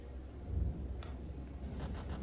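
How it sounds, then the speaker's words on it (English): Steady rain hisses in the background while a low thunder rumble rolls underneath in the indie horror video game The Raven, with a brief crackle about a second in; no voices. "The wind howled fiercely, and I could also perceive the first drops of rain falling"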